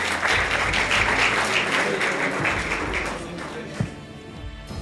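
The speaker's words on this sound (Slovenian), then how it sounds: "En aplavz za nominirance." A crowd applauding loudly and steadily, dense clapping that tapers off slightly toward the end.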